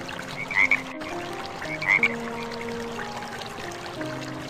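Two short, bright croaks from a fully grown frog, evenly spaced over a low background of steady tones.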